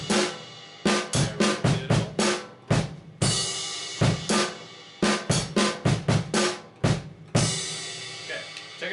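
Drum kit playing a song's beat at a slow tempo, with loud, close bass drum, snare and crash cymbal hits in a steady pattern, no accompaniment.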